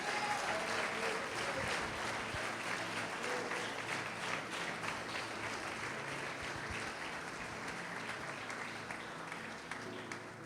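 A church congregation claps at length during a Lord's Supper service, dense even applause heard at a moderate distance, steady throughout with only slight swells.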